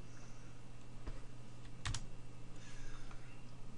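Computer keyboard typing a command line entry, a brief run of soft key clicks with a sharper cluster of taps near the middle, close and quiet over a steady low electrical hum.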